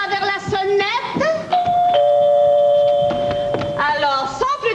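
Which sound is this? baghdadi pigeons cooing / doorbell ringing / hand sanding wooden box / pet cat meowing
doorbell ringing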